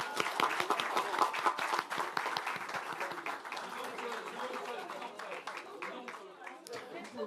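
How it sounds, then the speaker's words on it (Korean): Warm applause for party candidates at a Democratic Party event electing the National Assembly speaker, steady dense clapping from a crowd that gradually thins, with voices murmuring underneath. "지금까지 고생해주신 모든 후보자님들에게 뜨거운 박수와 응원 부탁드리겠습니다"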